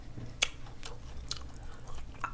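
A crunchy banana crunch treat is chewed close up in quiet, soft rhythmic bites, with a few sharper crunches standing out over faint background noise.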